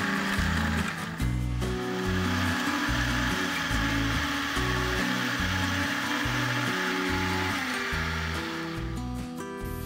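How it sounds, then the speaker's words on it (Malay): An electric blender grinds red bird's eye chilies, a loud close motor whir that pulses in rhythmic low thumps as the blades chop, running steadily throughout. "Kisarkan dahulu sekejap."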